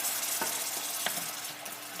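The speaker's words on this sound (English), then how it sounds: "So we'll just add the champagne. Get those lovely bits just going off very beautifully." Champagne hits a hot pan for champagne chicken and hisses in a dense, continuous close sizzle, with a couple of faint scrapes underneath.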